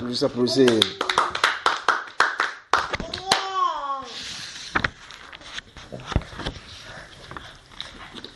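A church congregation claps hands during a hymn service. Sharp, close hand claps sound irregularly alongside singing and talking voices, with some exclamations over the clapping.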